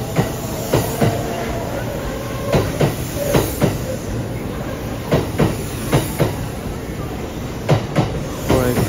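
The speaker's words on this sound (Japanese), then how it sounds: "奈良駅確定で3200系。" A Kintetsu 3200 series train rolls through Yamato-Saidaiji station with a steady rhythmic clickety-clack of wheels over rail joints, the rumble continuous and fairly close.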